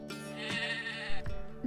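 A goat gives a single drawn-out bleat, close and fairly loud, with faint background music.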